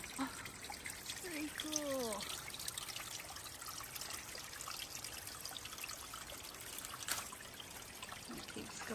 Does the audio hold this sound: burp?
no